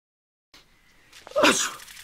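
A single person sneezes after a moment of silence, with a short breathy intake and then a sharp, loud burst close by.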